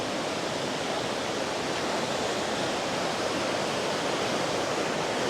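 Seven-stage waterfall, a dense, unbroken roar of rushing water that stays loud and even throughout with no other sounds.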